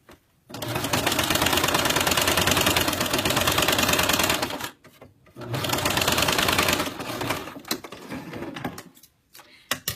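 Sewing machine runs steady lines of gathering stitches through the top layers of fabric, two loud continuous bursts of rapid stitching separated by a brief pause, then shorter stop-start runs near the end.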